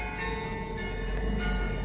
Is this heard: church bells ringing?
yes